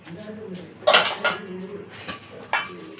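Metal lid clattering onto a cooking pot of simmering turmeric-spiced food, with a few sharp clanks and rattles close by, a quiet voice faintly underneath.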